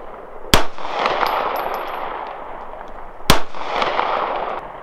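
Two sharp, loud shots from a Triarc TRI-11 9mm 1911 pistol on an outdoor range, spaced about three seconds apart, each a hard crack over a steady background hiss.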